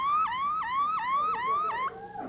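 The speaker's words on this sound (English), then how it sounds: "It also has an alarm." A stun gun gadget's built-in alarm sounds a rapid, repeating electronic siren that sweeps up in regular cycles, loud and close, then stops abruptly near the end.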